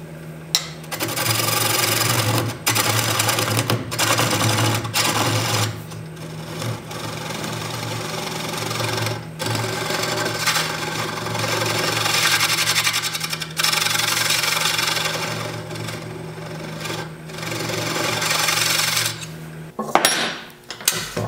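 Sandpaper rubs a nub off a wood-turned piece on a spinning lathe, a loud, continuous scratchy hiss broken by brief pauses, with a steady motor hum underneath, no talking.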